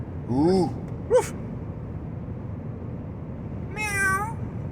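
A young child imitates a cat with short meows: one near the start, a quick squeak, then a longer meow near the end, close and fairly soft against a quiet room.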